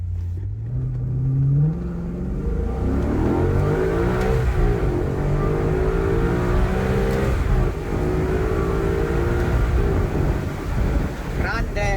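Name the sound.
Maserati car accelerating hard from 0 to 100 km/h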